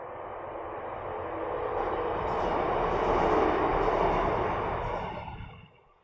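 A train passes by, a broad steady rumble that swells over several seconds and then fades out at the end, loud and close with no voices over it.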